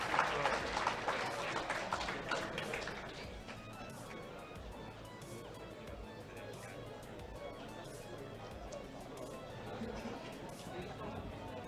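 A crowd at a robot fighting league event roars with applause and clapping for about three seconds, then settles into a steady, lower murmur of chatter that fills the rest of the clip.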